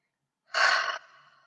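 A single deep exhale through the mouth during a guided breathing exercise, a soft breathy rush that starts strong and trails off quietly, heard alone with no talk.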